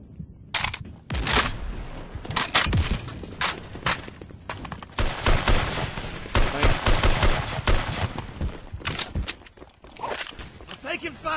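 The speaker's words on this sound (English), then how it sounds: "I'm taking fire!" Dense gunfire and explosions from a battle in the video game Unit 1968, with rapid bursts and single shots crowding together under shouted voices throughout.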